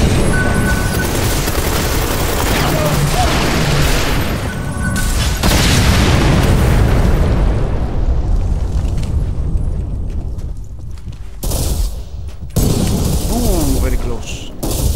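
Gunfire from a secondary weapon in the online shooter Ghost Recon Phantoms: loud, dense bursts of shots and booming impacts through the first half, thinning into scattered reports and rumbling battle noise later, with voices faintly under the action.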